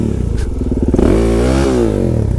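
A supermoto motorcycle engine in a video game revs loud and close, its buzzing tone rising and shifting pitch as it accelerates, with no voices.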